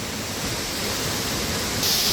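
A waterfall in a remote mountain valley rushes in a steady, broad hiss, loud and continuous without a break, with no voices.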